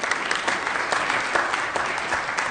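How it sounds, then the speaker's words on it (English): Applause for a middle school band at a school board meeting: dense, even clapping from a seated audience in a room, sustained throughout. "Another round of applause for the Frank Augustus Miller Middle School."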